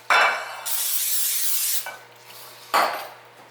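Cooking spray hisses from an aerosol can in a long steady burst onto a baking pan, followed by a shorter spurt, with a light metallic clink of the pan at the start.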